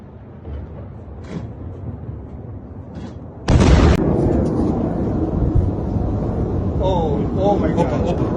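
Missile strikes burst over Tel Aviv at night; a sudden loud blast arrives midway and gives way to a sustained roar and rumble, with people talking and exclaiming.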